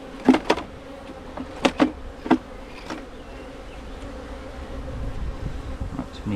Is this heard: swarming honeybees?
yes